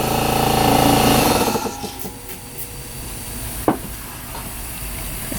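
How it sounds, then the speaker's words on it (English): An air compressor runs in a workshop where a car is being readied for a dyno tune. It gives a loud, steady hissing roar that drops away after about two seconds to a quieter hum, broken once by a sharp knock. "We can't hear it with the compressor going on"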